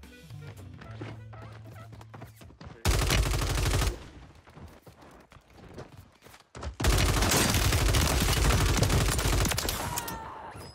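Sustained automatic gunfire from the video game Call of Duty Warzone comes in two loud bursts, one lasting about a second and a longer stretch of several seconds, separated by quieter in-game sounds.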